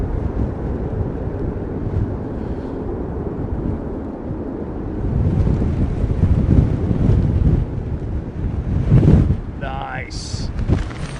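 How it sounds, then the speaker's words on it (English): Strong storm wind gusting at Heathrow Airport during Storm Darragh, a steady roaring buffet of wind noise on the microphone that swells louder around the middle and end, with brief voice-like sounds near the close. "Wind has just picked up again."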